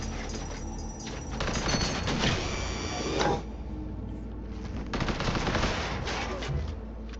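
Rapid bursts of automatic gunfire from a video game rattle in dense volleys, loud and close, with a short pause between clusters of shots.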